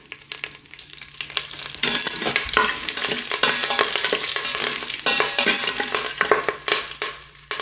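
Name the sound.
curry leaves sizzling in oil tempering in Instant Pot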